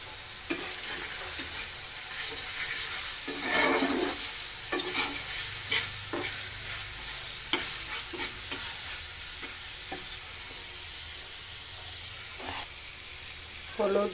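Ground onion, garlic, ginger and cumin paste with salt sizzles and fries in oil for a Bengali fish kalia curry, a steady close hiss broken by the scrape and clatter of stirring.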